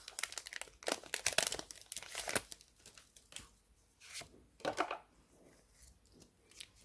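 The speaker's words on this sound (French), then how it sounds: "Et il déchire tout seul les paquets." Foil Pokémon card booster packs being torn open by hand, a run of sharp crinkling rips and crackles, loud and close, with short pauses between bursts.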